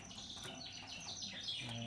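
A young Border Fancy canary chirps in quick, high, sweeping notes, soft and fairly close, in a short run of bright tweets with no talk.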